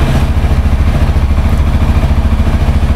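A 2022 Apache 160 4V Special Edition motorcycle idles steadily, giving off a close, even low rumble with a fast, regular throb and no other sounds.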